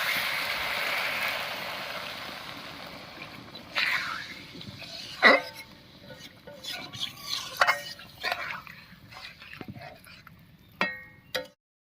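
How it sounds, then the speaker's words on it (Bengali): Water poured into a pan of duck-egg curry with spiced eggs: a brief rushing pour fading out, followed by scattered clinks and knocks of utensils against the pan. "এবার ঝোলের জন্য জল দেবো"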